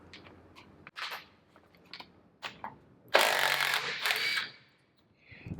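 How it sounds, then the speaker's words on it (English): Impact gun working on the flywheel nut of a Mercury 9.8HP outboard engine, with a loud sustained rattling burst of about a second amid shorter clanks and tool handling noises. "now I'll get an impact gun and see if we can get this flywheel off"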